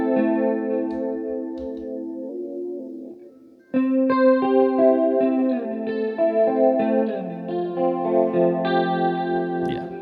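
Electric guitar run through a Free The Tone Future Factory modulation delay with only the wet delay signal, sustained chords smeared by repeating echoes and chorus-like shimmer, a brief dip near four seconds before fuller, louder repeats build on.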